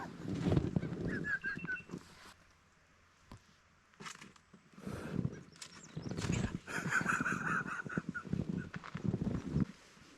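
Angry birds honking at a campsite during a dual sport motorcycle trip: repeated harsh, goose-like honks in short bursts, fairly close, over rustling background noise.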